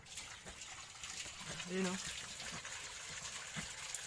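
Water gushes steadily into a container for free-range ducks, filling it so they can bathe, with a voice talking briefly over the flow.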